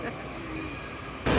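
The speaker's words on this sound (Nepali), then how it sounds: "ट्रेन गयो रे मम्मी, यही हो ट्रेन हाम्रो" A train rolls along the rails with a steady mechanical rumble and faint wheel squeal, then a sudden louder rush of noise in the final moments.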